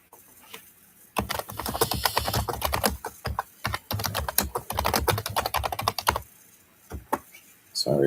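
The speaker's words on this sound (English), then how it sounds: "Sorry if the typing's loud." Rapid clicking of keys on a computer keyboard in bursts with short pauses, fairly close and moderately loud, with no voice over it.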